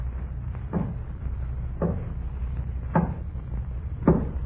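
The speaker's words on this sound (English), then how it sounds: "there was a knocking at the door" Knocking at a door in a horror radio drama, four spaced single knocks, fairly quiet and hollow, set against a muffled low background hum with no voices.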